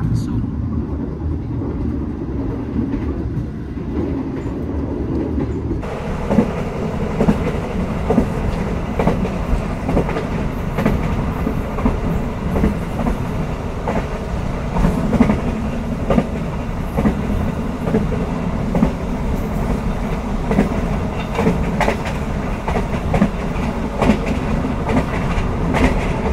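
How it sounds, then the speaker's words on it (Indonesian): The Argo Sindoro express train rushes straight through Brebes station without stopping, a loud sustained roar with rhythmic clickety-clack of wheels over rail joints building after the first few seconds and continuing throughout. "Tapi kereta api Argo Sindoro ini melintas langsung."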